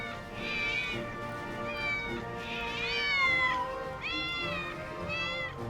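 Several cats meowing in a California home cat sanctuary housing over 1,000 free-roaming cats, a chorus of overlapping drawn-out, rising and falling meows close by, with a few cries near-continuous throughout.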